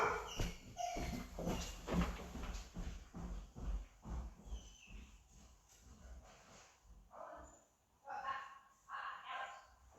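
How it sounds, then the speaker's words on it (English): Indoor dog barking and yipping, a string of close, irregular barks and scuffles that fade, then a few more barks near the end, with no clear speech. "my dog's barking"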